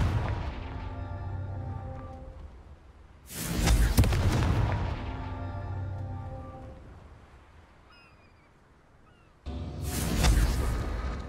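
Fire-blast spell explosions in Hogwarts Legacy: two loud, booming blasts with crackling bursts, one near the middle and another at the end, separated by a ringing, decaying tail and lighter magical tones, with no talking.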